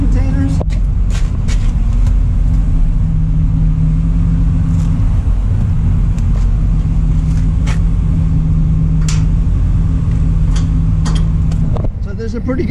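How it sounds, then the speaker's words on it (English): A diesel generator set running to power refrigeration containers, a loud, steady low rumble with a constant hum, close by and continuous. "so this is the generator set. It creates the electricity to power the"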